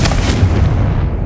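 A Confringo blasting spell in Hogwarts Legacy, a loud, close, dense burst with heavy low rumble filling the whole short moment, no talking over it.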